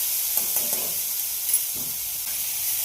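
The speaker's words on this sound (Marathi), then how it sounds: "टमाटा आणि कांदा हा एकत्र केला जातो आहे" Chopped tomato and onion stirred together in a hot pan, a soft continuous hiss and sizzle with a few faint scraping strokes of the spoon, fairly close and steady.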